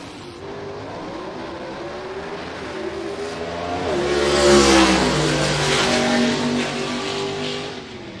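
Gasser drag race cars, including a '57 Chevrolet, launching at a drag strip: loud revving engines build to a roaring peak midway as the cars pull away, then fade slightly.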